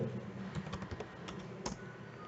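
Quiet, rapid keystrokes on a computer keyboard as a command is typed, a short run of separate clicks with one slightly harder tap near the end.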